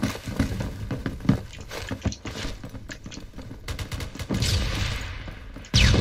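Rapid gunfire from an SR3 in the Roblox game Phantom Forces, with repeated sharp cracks and shots over busy, dense game noise and a louder burst at the end.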